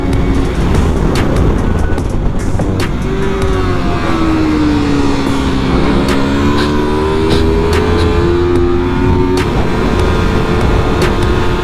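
Yamaha R3 sport motorcycle engine racing on a track, loud and continuous, with rising and falling revs as it shifts down through the gears, a steady close onboard roar throughout.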